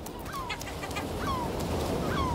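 Gulls at a breeding colony give three short, repeated calls over a dense background of distant colony noise and chatter.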